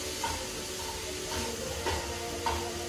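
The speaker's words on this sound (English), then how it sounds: "let's cook this chorizo" Chorizo frying in a pan gives a steady sizzle with a few scraping stirs, close and moderately loud with no talking.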